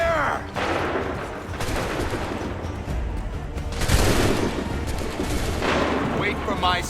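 Musket volleys fired by soldiers in an Assassin's Creed 3 cutscene, with loud booming, crackling rounds of fire rolling out in several bursts across the scene.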